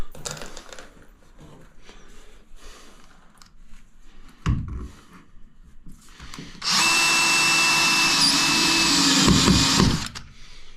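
A power drill drives screws into a niche lining, a steady loud whirring run of a few seconds after quieter handling knocks, close up and alone.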